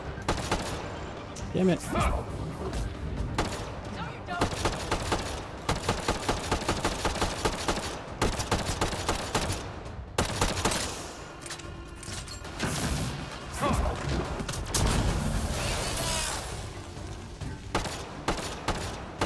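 Dense, rapid gunfire from a shooter video game, Mass Effect Andromeda, in a firefight among containers, with bursts of shots and loud impacts throughout and someone talking over it.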